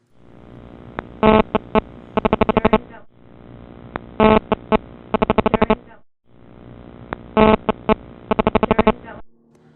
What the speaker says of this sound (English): Here is a clip showing a motion sensor being triggered by a cell phone.